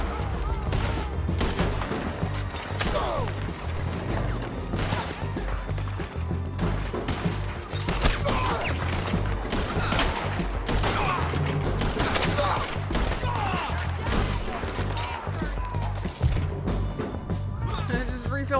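Gunfire in Red Dead Redemption 2 during a bounty hunt: repeated sharp shots and impacts scattered throughout, mixed with game sounds and a voice talking over them.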